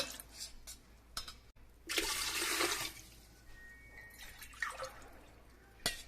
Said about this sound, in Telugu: పాత్రలో నాలుగు గ్లాసుల వాటర్ పోసుకుంటున్నాను